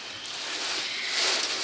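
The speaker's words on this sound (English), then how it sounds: "Oh, it's raining really hard again." Heavy rain falling outdoors makes a dense, even hiss of drops drumming on surfaces, steady and fairly loud throughout, with no voices.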